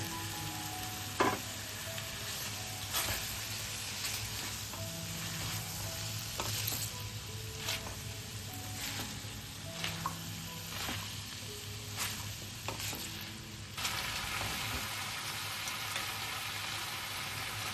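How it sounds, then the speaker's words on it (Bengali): Fried vegetables tipped into a cooked spice paste in a pan, a quiet continuous sizzle with scattered clicks and scrapes from stirring, close but low in level, without talking. "এদিকে মশলাটা আমাদের খুব ভালোভাবে কষানো হয়ে গেছে। ভেজে রাখা সবজিটা দিয়ে দিচ্ছি।"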